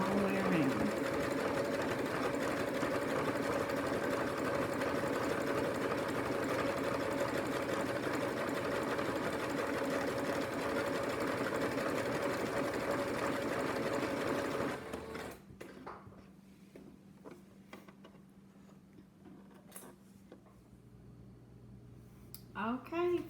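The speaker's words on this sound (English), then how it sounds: "Okay, finished sewing the rope bowl." A sewing machine runs steadily while stitching coiled rope into a bowl, a loud continuous motor whir with rhythmic needle chatter for about fifteen seconds, then it stops, leaving quiet handling sounds and a voice speaking.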